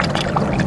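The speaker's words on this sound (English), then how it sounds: "pouring in the fluid." Radiator fluid, a 50-50 coolant mixed with water, pouring into a car's radiator, a short steady liquid pour with gurgling trickles close by.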